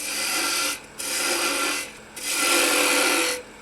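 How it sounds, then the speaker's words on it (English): Spindle gouge cutting wood on a lathe, a steady rasping scrape in two long passes with a brief lift between them, near and fairly loud, no talking. "Then we'll switch over to a 1/2-inch spindle gouge."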